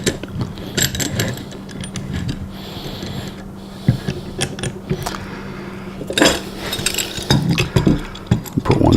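Metal clamps ratcheting and clanking as they are fitted and tightened onto a guitar carve top in a workshop, irregular close clicks and knocks, mostly without talk.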